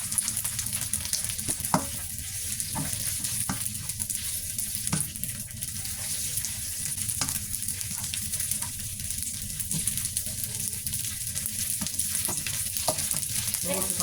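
Continuous sizzling of wide rice noodles frying in a wok with dark soy sauce, with scraping stirs and clinks of a spatula at irregular moments, close and steady throughout.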